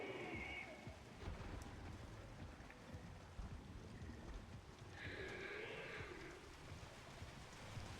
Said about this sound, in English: Is the rain picking up?